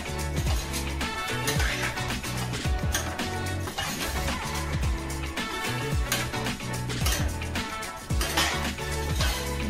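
Beans and carrots tossed with salt in a Healux cookware pot: a steady run of clinking and scraping from a spoon against metal, close and fairly loud, over a constant low background tone.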